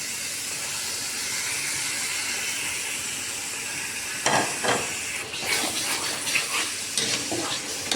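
Tomato paste is sautéed in oil in a kadai for paneer lababdar. A soft, steady sizzle hisses for a few seconds, then louder bursts of sputtering and stirring break in near the end.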